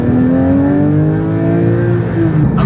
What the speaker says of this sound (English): the V8 engine makes a nice crackle when you're starting